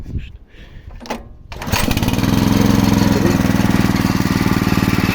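A cold petrol walk-behind tractor (motoblock) engine starts after some handling noises, then runs loud and steady with a rapid chugging rhythm, close by.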